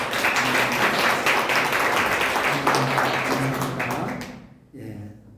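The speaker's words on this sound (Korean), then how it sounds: "박수로 환영하겠습니다." A Korean church congregation in Mexico claps to welcome a visiting pastor and his wife, with steady, close applause over a low sustained tone, tapering off before a voice begins speaking.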